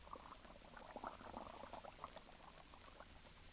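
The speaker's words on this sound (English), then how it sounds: "the flakes melt into a soft, frothy mass of bubbles. Listen to them." Lux soap flakes dissolve into a frothy mass of bubbles, making a faint, steady crackling fizz of tiny popping suds that runs on continuously in a 1939 radio broadcast.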